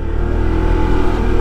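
A Honda ADV160 scooter fitted with a topbox climbs uphill on the road from Talisay toward Tagaytay at full throttle. Its engine gives a loud, steady, close-up drone that holds without a break.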